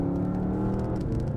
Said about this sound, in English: it's still a really good sounding exhaust, especially from the outside